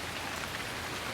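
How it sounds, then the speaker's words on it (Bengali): Heavy rain falling, a dense and constant patter of drops on surfaces that stays even throughout, with no voices. "আজকে বৃষ্টি বোধহয় থামবে না।"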